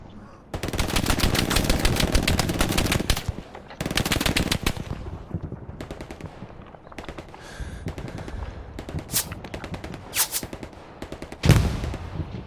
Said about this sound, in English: I'm trying to put him down with machine gun fire again